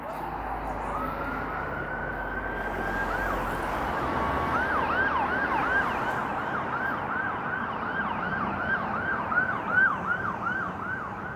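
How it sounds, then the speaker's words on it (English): A wailing emergency siren sweeps up and down repeatedly at a distance, over steady street traffic noise in Toronto's Junction neighbourhood. "it's impossible to go through one of these walks without some kind of siren noise"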